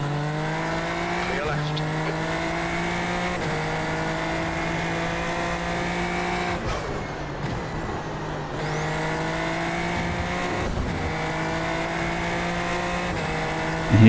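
Race car engines in the iRacing sim racing game hold a steady, loud harmonic drone that climbs in pitch, dropping with each gear shift. Brief tire scrubbing comes through a rough patch midway.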